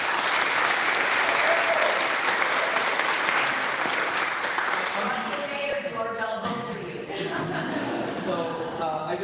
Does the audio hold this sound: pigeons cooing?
no